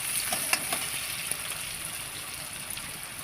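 Onion sautés in oil for a potato and flat bean dish, making a steady close hiss with a few faint spoon taps near the start.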